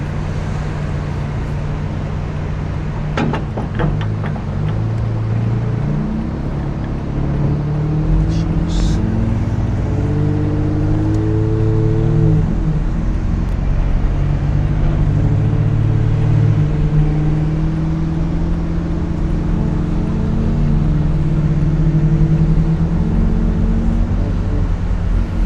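A Jeep engine drones steadily in low gear as it climbs a beach ramp, with no power steering. The loud, continuous rumble shifts pitch slightly as it labors, and talk is heard over it.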